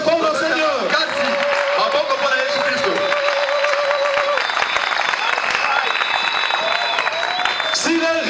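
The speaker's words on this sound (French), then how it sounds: "Acclamons très fort le Seigneur." A church congregation at an outdoor evangelism crusade in Ouenzé applauds and cheers, with steady dense clapping and shouts for the whole stretch. A music line rises above the crowd noise.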